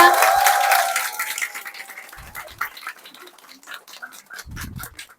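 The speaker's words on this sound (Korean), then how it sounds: "다시 한번 큰 박수 부탁드리겠습니다" An audience at a business presentation claps, loud and dense at first, then thinning to scattered claps that fade.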